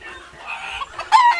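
A hen clucking after laying an egg: a short, loud burst of rising, agitated cackling calls close by, ending in a sharper squawk, with no talk.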